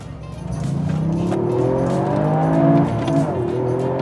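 A Toyota GR Yaris accelerating hard, its engine note climbing steadily through rising revs in a loud, close, continuous roar heard from the driver's perspective, with no talking over it.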